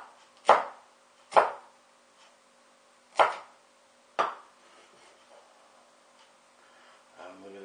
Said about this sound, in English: Chop it into small strips.